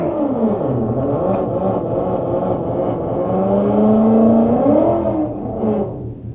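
A stock 2015 Mustang GT and a stock 2016 Camaro SS with an 8-speed run a drag race at the track, their engines roaring loud and close as revs climb and shift, then fading near the end.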